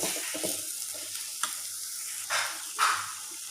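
Onion masala for prawn thokku sautés in a pan, a soft close sizzle broken by a few sharper scrapes and stirs of the spoon against the pan, with no voices.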